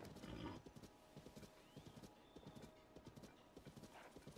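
A horse in the game Zelda: Tears of the Kingdom trots with a steady, rhythmic clip-clop of hooves and gives a brief whinny near the start, heard fairly faintly with no talking over it.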